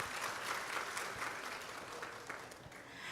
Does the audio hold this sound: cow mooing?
no